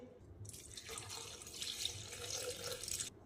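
Water from a tap pours steadily into a jug holding cut bitter gourd pieces for juice, a close, continuous splashing stream lasting a few seconds with no talk.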